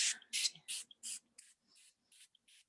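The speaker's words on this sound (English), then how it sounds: "Saturating your skin, spraying it all around." A rapid series of short, close hissing spritzes from a facial mist spray bottle, about nine bursts in quick succession, fading slightly toward the end.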